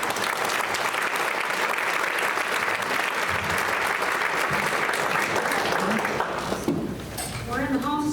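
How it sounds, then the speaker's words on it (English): A large audience gives sustained, loud applause for the panelists at the Envision Iowa 2022 event, a thick wash of clapping that runs steadily, then thins near the end as a voice starts speaking over it. "Please give a big round of applause to our panelists."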